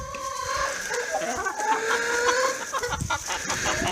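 Chickens in a farm barn clucking and calling in overlapping bursts, several birds at moderate distance with a faint rooster-like crow, steady background noise throughout.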